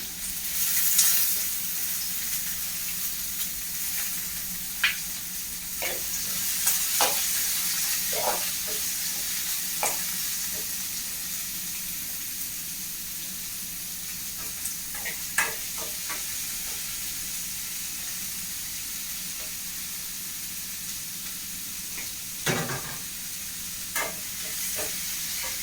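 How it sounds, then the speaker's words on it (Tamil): Onion, ginger and garlic sizzling in a pan for a mushroom fry, a continuous hiss broken by irregular scraping stirs and occasional spatula knocks, close and moderately loud, no speech. "அடுத்து வெங்காயத்தை போடுறோம்."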